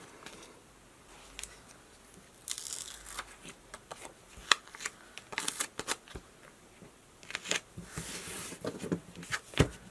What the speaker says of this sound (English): We'll start out by putting the adhesive backing on the back of your holographic paper.